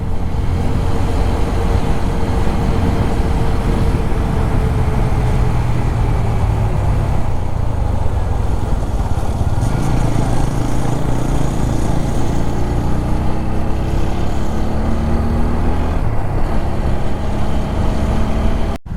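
A motorcycle riding along a highway toward Haridwar, with an unusual noise coming from its chain; steady loud engine and wind roar throughout, with no speech.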